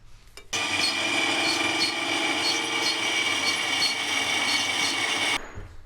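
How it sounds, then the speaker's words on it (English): Power tool cutting and deburring a fabricated metal oil cooler bypass bar for an Astra H VXR time-attack car: one steady, loud grinding rasp running unbroken for about five seconds, then stopping abruptly. "cut that down, give it a quick deburr"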